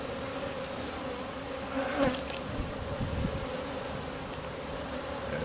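Honeybees fanning inside an opened beehive: a steady, close, dense buzzing hum that holds evenly throughout, with a faint brief knock near the middle and no talk.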